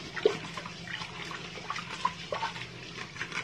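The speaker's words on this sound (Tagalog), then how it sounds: "Hugas ng bigas." Rice being washed by hand in a basin of water, with no sink, in Nepal: soft sloshing and swirling of water with a few small splashes and drips, close and fairly quiet.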